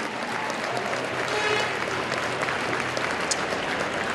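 Steady applause from a graduation-day audience in Venice, a dense continuous patter of many hands clapping at even loudness throughout, with faint voices underneath.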